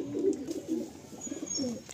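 A female pigeon in a Kolkata loft coos in soft, low, throaty bursts, several rolling phrases close by against quiet room noise.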